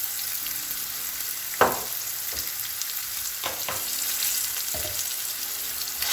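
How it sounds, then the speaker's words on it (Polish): Pieces of food fry in oil in a pan, with a steady bright sizzle throughout and occasional louder crackles and pops as pieces are placed or turned, close and alone. "smażymy około 30 sekund na każdej stronie"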